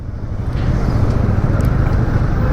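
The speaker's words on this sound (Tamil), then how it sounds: "டே என்னடா இங்கே டிராஃபிக் இவ்வளோ?" Road traffic on a busy street in Kashmir, heard from a motorbike as a loud, steady roar of engines and passing vehicles with wind rumble, no voices.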